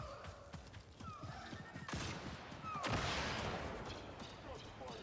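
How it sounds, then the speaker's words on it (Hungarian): Gunfire rings out in the video game Star Wars Jedi: Survivor: two sharp bursts of shots stand out amid whistling effects and other game noise, with faint voices underneath. "Lövöldöznek."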